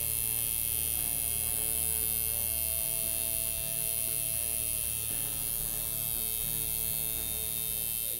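A tattoo machine fitted with a 5-round needle gives a steady, close electric buzz and hum throughout, with no pauses and no talking.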